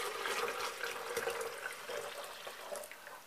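Hot marinade for pickled zucchini is poured into jars, a steady, close liquid splashing and trickling that continues evenly throughout.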